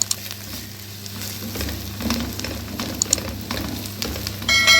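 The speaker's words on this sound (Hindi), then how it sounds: "ये देखें बड़ा अच्छा सा फ्राई हो रहा है" Garlic ginger paste frying in a pan, giving a steady close sizzle with a few stirring scrapes and a brief clatter near the end, without any talking.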